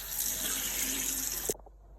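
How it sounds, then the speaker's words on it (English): Cold water runs steadily from a tap into a bowl while homemade butter is rinsed and pressed, a broad continuous splashing rush that stops abruptly near the end, leaving a few faint drips. "Just keep refilling your bowl with cold water and pressing your butter"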